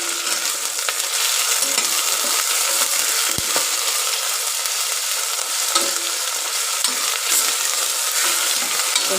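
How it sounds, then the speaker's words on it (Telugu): Garlic paste stirred into frying vegetables in a pan for vegetable pulao, a steady close sizzle with scraping spoon strokes running throughout, no voices. "ఇప్పుడు వెల్లుల్లి పేస్ట్ వేస్తున్నానండి, ఒక స్పూను. బాగా అంతా మిక్స్ చేసుకోవాలండి."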